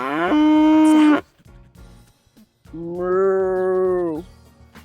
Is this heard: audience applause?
no